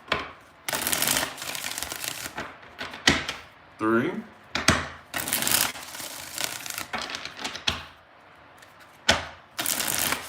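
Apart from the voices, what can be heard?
shuffling tarot cards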